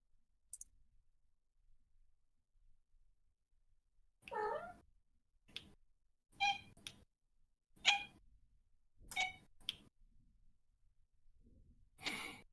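A house cat meowing close by, a string of about seven short, separate meows spaced a second or so apart in an otherwise quiet room.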